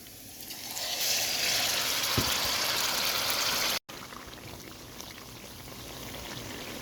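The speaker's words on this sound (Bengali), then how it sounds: "এখন পেঁয়াজ কুচির মধ্যে এই মশলার পেস্টটা দিয়ে দেব" Spice paste goes into chopped onions in a hot pan, setting off a loud, steady, close sizzle that holds evenly and then settles slightly lower after a momentary break.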